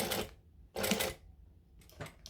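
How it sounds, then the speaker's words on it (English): A sewing machine top stitches a pouch near a zipper, running in three short bursts of rapid, even stitching separated by brief pauses, close and clear. "And I'm going to top stitch."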